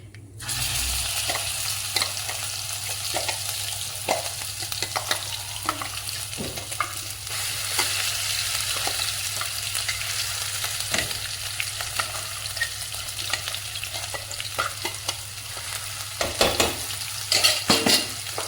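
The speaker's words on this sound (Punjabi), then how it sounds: "ਇਹਨੂੰ ਆਪਾਂ ਚੰਗੀ ਤਰ੍ਹਾਂ ਭੁੰਨਾਂਗੇ" A paste of ground onion, garlic, ginger and green chilli roasts in a pan for a spiced yogurt-gram-flour okra dish, giving a steady soft sizzle with scattered scraping stir strokes, close and uninterrupted, with no talking.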